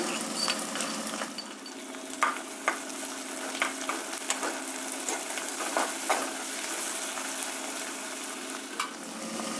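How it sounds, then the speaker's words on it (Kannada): Ginger garlic paste fries in a pan with onion, a steady close sizzle under repeated scraping of a spoon stirring, with small clinks; no one talks. "ಈಗ ಶುಂಠಿ ಬೆಳ್ಳುಳ್ಳಿ ಪೇಸ್ಟ್ ಹಾಕ್ತಾ ಇದ್ದೀನಿ"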